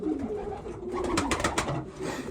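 A racing pigeon coos close by in a few soft, throaty, low rolling calls over a light background hiss, with no voices.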